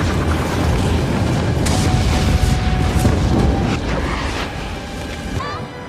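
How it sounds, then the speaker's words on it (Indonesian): A locker explodes in a loud, sustained roar with rumbling low end and crackling bursts throughout, continuing for several seconds. "Stone berhasil bergelantungan di bagian bawah helikopter tepat sebelum loker itu meledak"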